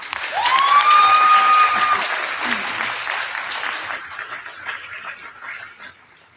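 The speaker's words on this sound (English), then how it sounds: "Students, give yourselves a well-deserved round of applause." Students and guests break into a round of applause at a practical nursing pinning ceremony, loud clapping opening with a sharp whistle or cheer, then gradually thinning and fading.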